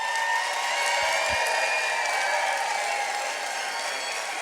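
Steady applause from a sizable film festival audience after a screening, a dense wash of clapping at moderate distance, with no voices standing out.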